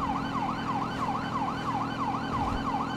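A wailing emergency vehicle siren in Grand Theft Auto V sweeps up and down in a steady, rapid cycle, loud and continuous over a low engine rumble.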